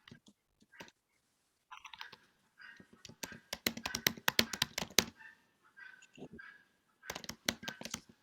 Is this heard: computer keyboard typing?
yes